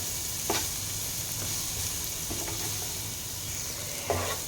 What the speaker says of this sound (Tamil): காயெல்லாம் கொஞ்சம் அப்படியே ஸ்ட்ரெப் ஃப்ரை ஆகணும்